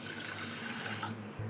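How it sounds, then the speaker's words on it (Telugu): Moong dal is rinsed under a running kitchen tap, a steady close rush of splashing water pouring into a vessel for the whole moment, with no talking. "ఇప్పుడు పెసరపప్పుని దీంట్లో వేసుకొని కడుక్కొని"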